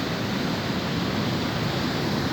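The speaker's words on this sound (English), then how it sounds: "The thundery waves." Big thundering waves breaking on a rocky beach make a steady, loud, broadband roar of surf that fills the whole stretch without pause.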